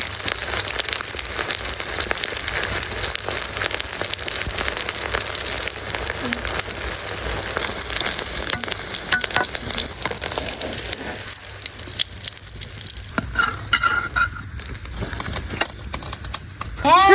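Leafy greens (shak bhaji) frying and being stirred in a pan at an outdoor picnic, a steady broadband sizzle with scraping stirs that thins out near the end, voices talking faintly alongside.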